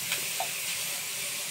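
Dried gabi (taro) leaves sautéing in their own oil in a pan, giving a steady, soft frying sizzle with a faint hiss throughout, fairly close and alone.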